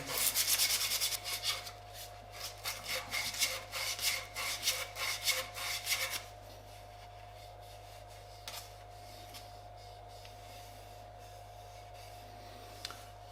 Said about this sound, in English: And now I will grind out all the imperfections still left after filing.